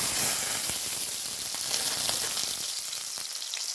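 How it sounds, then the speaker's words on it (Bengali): Cut potato sizzling as it fries in hot white oil, a steady crackling hiss with scattered pops that thins out near the end. "সেই আলুটাকে আমি সাদা তেলে দিয়ে ভেজে নেব।"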